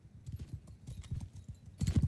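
Horses galloping in the Mount & Blade II: Bannerlord video game, a faint, continuous low thudding of many hooves that swells louder toward the end, with no talk over it.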